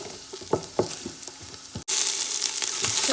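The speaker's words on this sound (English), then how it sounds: "I'm just gonna give it a stir until the onion is translucent" Onion frying in a pan with a steady sizzle, broken by several soft scraping stirs before a brief pause, then a louder, denser hiss as the sizzling picks up again.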